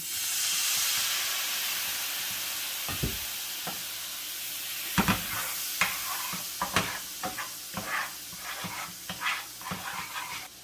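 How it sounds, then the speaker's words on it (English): Spices toasted with paprika are deglazed with Szechuan wine in a hot pan, a steady hiss of steam and sizzle followed by a run of scraping stirs and clinks. "we're going to deglaze with a little Szechuan wine"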